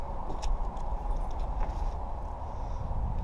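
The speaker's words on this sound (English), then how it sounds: "Definitely some kind of a knock happening there." An old Toyota 22RE four-cylinder engine idles roughly while running on only four cylinders, a steady close mechanical clatter with a repeating knock running through it.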